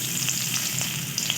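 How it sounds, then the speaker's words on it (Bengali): Chopped onion crackles and sizzles in mustard oil with panch phoron in a wok, a dense continuous frying hiss with faint pops, close and alone. "এবার এর মধ্যে দিয়ে দেবো কুচিয়ে রাখা পেঁয়াজ"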